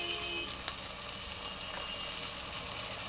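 Onion paste frying in a pan for mutton curry, a steady soft sizzle with a faint clink partway through, continuous and close, no voices.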